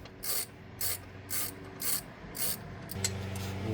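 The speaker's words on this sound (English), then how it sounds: "we're going to take off the serpentine belt tensioner. The 15 mil bolt in the center." A ratchet wrench turns the 15 mm center bolt of the serpentine belt tensioner on a Hummer H3, giving about six evenly spaced bursts of rapid clicking, close and clear, then a brief mechanical clunk.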